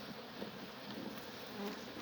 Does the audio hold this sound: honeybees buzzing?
yes